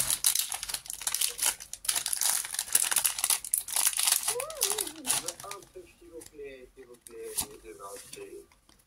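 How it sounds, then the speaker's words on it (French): A trading card booster pack wrapper being torn and crinkled open among Christmas presents, loud close rustling and crackling for several seconds, then a voice chatters in a sing-song way as the wrapper noise dies down. "encore 3e booster. On commence à avoir la technique pour les ouvrir."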